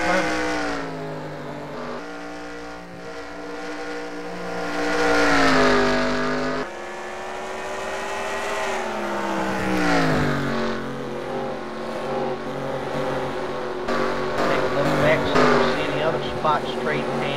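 Race car engines roar through a heat race at Bristol, revving and shifting pitch as cars pass, loud and continuous with a commentator talking over the whole stretch.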